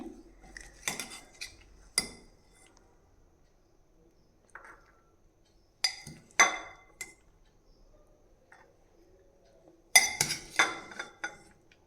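Sprouts salad being spooned into a serving bowl, a few separate bursts of metal spoon clinks and scrapes against the dish, close and clear with quiet gaps between.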